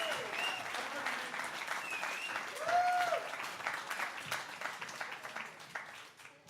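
Stand-up comedy club audience applauding and cheering a comedian walking on, a dense, sustained round of clapping with a short whoop, with a voice faintly heard under it.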